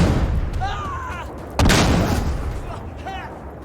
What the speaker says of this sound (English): Friendly artillery incoming!